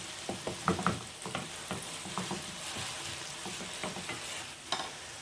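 Grated onion for tajine de kefta sizzles in a pan, with irregular stirring scrapes and soft crackles over a steady frying hiss, close and fairly quiet.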